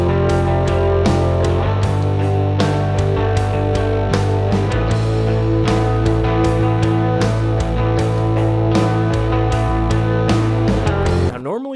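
A shoegaze verse plays with panned guitars and bass: sustained, layered droning chords over a steady bass line and regular drum hits, ending abruptly with a brief pitch-bending squeal.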